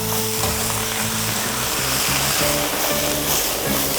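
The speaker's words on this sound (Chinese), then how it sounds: "把锅里的水烧干，给上油、姜片、蒜片，还有干辣椒及干花椒哈" Ginger slices, garlic slices, dried chili and Sichuan peppercorns fry in hot oil in a wok, a dense, loud, close sizzle with a faint tonal hum beneath.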